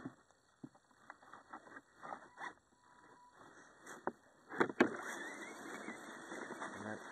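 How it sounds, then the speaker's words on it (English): A modded HG P601 6x6 RC crawler runs its motor in high gear across a frozen winter creek, giving a thin steady whine under crunching, skittering bursts from the wheels, growing louder and busier near the end. "That's the crawler motor for you."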